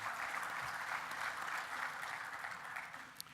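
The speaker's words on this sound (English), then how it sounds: "Please, a round of applause for all of our supporters of this report." Audience applause at a capital conference breakfast: a uniform, fairly soft patter of many clapping hands, sustained throughout.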